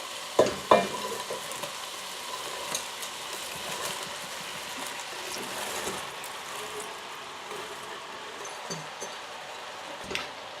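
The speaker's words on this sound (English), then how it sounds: "So the onions have been cooking now for about 5 or 10 minutes. I'm just going to add the red cabbage now." Red cabbage for German stewed cabbage drops into a pan of onions that have been cooking for several minutes: two thumping landings, then a steady, moderate sizzle with occasional stirring knocks.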